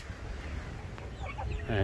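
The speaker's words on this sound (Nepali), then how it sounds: "यो कुखुरा यो गिरिराज हो, यो अहिले 3 महिनाको भयो," A three-month-old Giriraj chicken clucks softly a few times, close by, amid light background noise.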